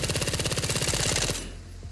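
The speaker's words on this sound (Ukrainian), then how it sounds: "Стріляю я, як обично, бронебоєчками." A rapid burst of automatic rifle fire with armor-piercing rounds in the video game S.T.A.L.K.E.R. 2 rattles loudly and evenly for over a second, then stops, leaving a brief fading echo.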